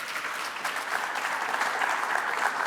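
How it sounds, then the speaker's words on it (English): A crowd at a New York governor's event gives a round of applause to the mayor, a short burst of loud, dense clapping that swells slightly midway and continues steadily, with no voices over it. "let's give another round of applause to our great Mayor, Eric Adams"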